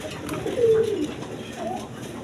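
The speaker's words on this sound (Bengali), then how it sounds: "ম্যাকপাই ড্যানিস কবুতর দিয়ে শুরু করতেছি একদম কোয়ালিটি সম্পর্ক কবুতর" Magpie Danish pigeons give a soft, throaty coo up close, followed by a second, fainter coo against a light background hum.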